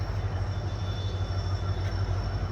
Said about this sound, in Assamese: এয়া ট্ৰেইনখন আহি পালে।